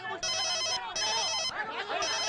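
Telephone bell rings in a movie scene, three bursts of an electronic ring with short gaps, loud and close, no talk over it.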